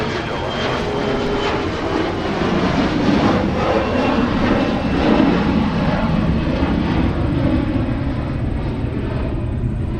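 Southwest jet airliner taking off from runway 30 left at Minneapolis–Saint Paul airport, a steady, loud broadband engine roar that holds throughout.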